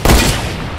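A hunting-rifle gunshot in Fortnite, a single loud close blast that cuts in sharply and then decays quickly into a short rumbling tail.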